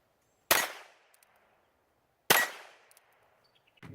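Two sharp, loud shots from a tiny NAA Mini .22 LR revolver fired outdoors, spaced about two seconds apart, each with a quick fading tail, then the start of a third at the end.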